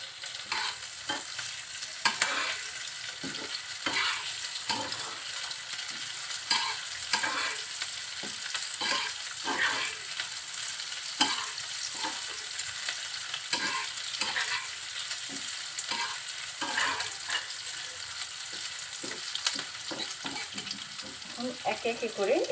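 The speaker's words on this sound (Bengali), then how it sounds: "মাছটা এখন এর ভিতরে দিয়ে দিচ্ছি" Shrimp sizzles with softened onions in a hot pan, a constant frying hiss broken by regular scraping stirs of a spoon, close and fairly loud throughout.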